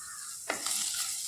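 Crushed ginger and garlic hit a pan of softened onions for a goat liver dish, bursting into a sudden close sizzle that carries on steadily with stirring, no talking.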